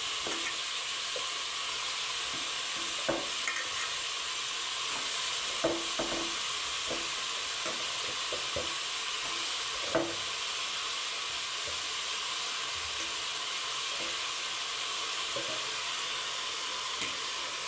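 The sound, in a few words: mushrooms frying and being stirred for mushroom biryani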